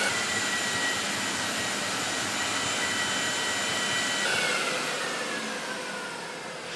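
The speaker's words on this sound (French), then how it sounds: "Faites pivoter l'embout d'insufflation afin d'assurer une répartition homogène de l'isolant." A blowing machine drives cellulose wadding insulation through a nozzle into a wall cavity, a constant loud airy roar that runs unbroken and tapers slightly near the end.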